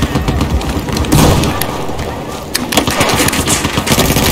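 Grenade blast and gunfire in Battlefield 4: a dense, continuous barrage of shots and booms fills the whole stretch, with a heavier burst partway through and more sharp cracks near the end.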